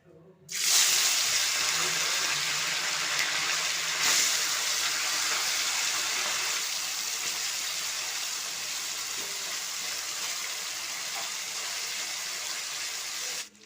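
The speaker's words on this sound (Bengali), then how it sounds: "তেলটা গরম হয়ে গেছে এবার এর মধ্যে দিয়ে দেবো চিংড়ি মাছগুলো" Prawns dropped into hot mustard oil, a loud sudden sizzle that settles into a steady, close hiss of frying that lasts throughout.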